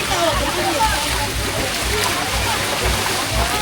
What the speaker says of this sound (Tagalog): nandito na kami sa spring, ang lamig-lamig ng tubig